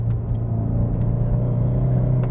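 A Subaru WRX STI taken fast through a corner gives a steady, loud engine drone and road rumble from inside the cabin, with no talking.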